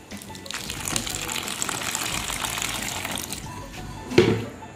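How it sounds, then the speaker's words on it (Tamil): Water runs steadily with a splashy, gushing hiss as it is poured into a bowl, ending with a brief clatter. "அதில் தண்ணி ஆட் பண்ணிக்கலாம்"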